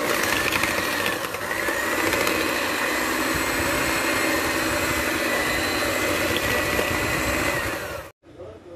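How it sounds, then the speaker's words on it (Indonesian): Eggs being beaten for lemon cake batter with an electric mixer, a loud, steady whirring drone that runs evenly for about eight seconds and then cuts off abruptly. "Ini dikocok selama 5 menit."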